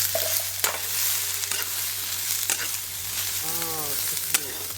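Cashews, almonds and green chillies fry in a pan with a constant crackling sizzle, punctuated by occasional scraping stir strokes and a few faint tonal squeaks.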